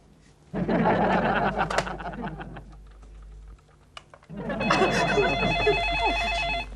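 A telephone rings indoors in a household scene, a repeated electronic trilling that starts after a brief stretch of voices and continues loud and near.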